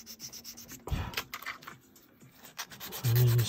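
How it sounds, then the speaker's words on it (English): Sanding a part of an Armory Su-24M Fencer-D model kit: short scratchy rubbing strokes in an irregular rhythm, close and moderately loud, with no one speaking. "And then just sand this side down again."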